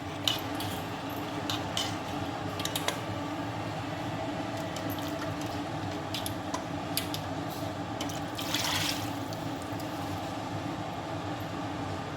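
Water is poured into a pot of sambar made with roasted field beans, a steady, continuous rushing pour that goes on for several seconds with faint clinks and no talking.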